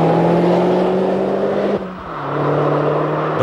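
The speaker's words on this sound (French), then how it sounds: "et la sonorité rageuse du moteur." Opel Astra TwinTop 2.0T turbo engine revving loudly and close, pitch climbing steadily, dipping briefly at a gear change, then rising again; no talk.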